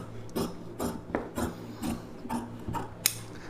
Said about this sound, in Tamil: இப்போ வந்து இது மேலே அப்படியே நம்ம கட் பண்ணிக்கலாம்.